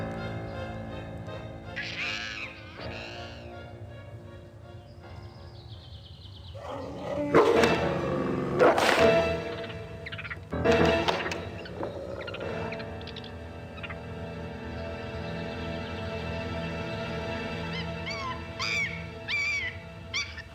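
A wolf in the video game Gabriel Knight 2 growls and whimpers, with high whining cries and a few louder yelps over a steady musical background, close and moderately loud.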